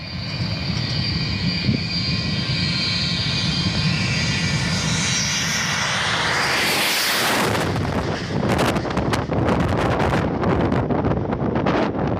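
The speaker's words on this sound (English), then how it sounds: "this is what in-flight refueling looks like from a Boeing Stratotanker." Jet engines of a Boeing Stratotanker during military in-flight refueling, a loud sustained roar with heavy wind rush that sweeps through a rising whoosh midway, then turns gusty and crackling toward the end.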